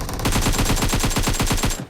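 Rapid automatic gunfire in the PUBG Mobile battle-royale game, a steady stream of about a dozen evenly spaced shots, loud and close, sustained for nearly two seconds before cutting off.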